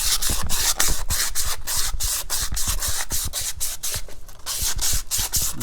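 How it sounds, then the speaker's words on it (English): Hand sanding on the inside of a painted scooter part, scuffing off gloss and overspray: quick, steady back-and-forth rasping strokes, close and loud, with no talk. "A little bit of sanding on the inside."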